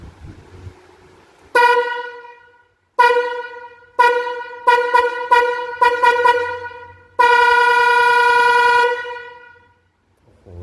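Two snail-shaped car horns blast loudly and brassily, several short honks followed by one long sustained blare, with brief silences between bursts.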